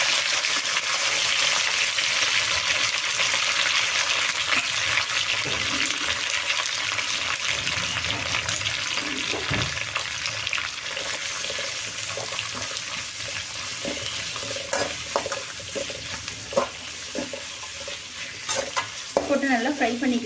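Onions and curry leaves fry in oil in a pan for a squid gravy, with a loud, steady sizzle and crackle throughout and occasional stirring scrapes and knocks toward the end.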